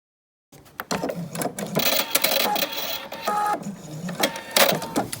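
A sewing machine stitches strips for a rail fence quilt block in quick, uneven whirring runs with short pauses, close and loud, starting after a brief silence.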